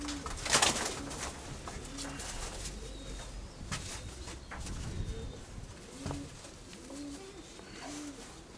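Several white-tailed pigeons cooing repeatedly, soft low rhythmic calls from multiple birds, with a brief flutter of wings near the start.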